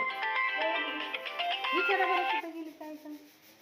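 A mobile phone rings with a melodic tune for a couple of seconds and then cuts off, in a quiet indoor room.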